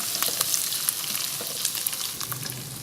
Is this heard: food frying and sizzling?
yes